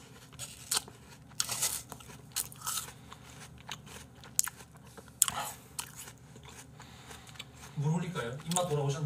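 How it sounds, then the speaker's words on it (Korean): Crisp crunching bites into an apple with chewing in between, close to the microphone, with a brief voice and handling noises, and denser crunching toward the end. "오늘 진짜 사과만 먹을래."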